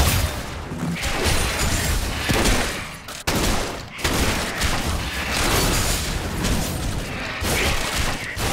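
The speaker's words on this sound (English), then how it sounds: "Blue team's turret has been destroyed." A turret being destroyed in a Diana vs Zed video game match comes through as dense, loud battle noise with crashing bursts and a sharp break near the middle, continuing steadily throughout.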